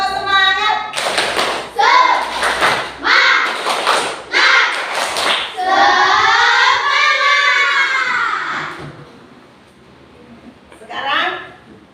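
A class of children performs the tepuk semangat clapping chant, sharp rhythmic claps in quick bursts mixed with their chanting voices, ending with a drawn-out shout and a final short call.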